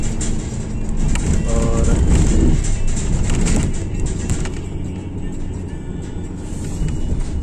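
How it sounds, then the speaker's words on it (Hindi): Steady road traffic on a foggy day in Croatia, heard from inside a moving vehicle: a continuous loud engine and tire rumble with passing-vehicle swells and brief tonal notes, no speech over it. "ट्रैफिक भी खूब है आज"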